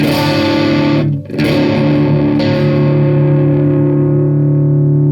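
Sustained distorted guitar or bass harmonics ring slightly out of tune with a slow wavering pulse, a brief cut near the start, then the chord decays while the beating continues.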